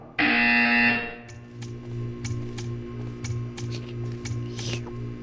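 A loud, harsh buzzer from the Portal video game sounds for about a second. Quieter clicks and ticks follow over a low steady hum.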